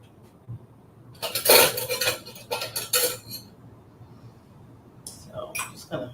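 Vegan chorizo is stirred into pasta in a pan: a utensil scrapes and clinks against the pan in uneven bursts, with quiet gaps between them.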